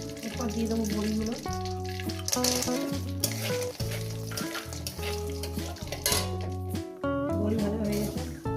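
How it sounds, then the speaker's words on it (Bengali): Bori lentil dumplings fry in oil in a pan, a continuous crackling sizzle with occasional stirring, heard under loud melodic background music throughout. "বড়ি ভাজা হয়ে গেছে।"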